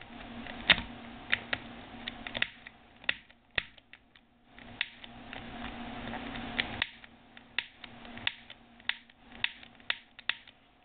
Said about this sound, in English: So I can click it while it's lit.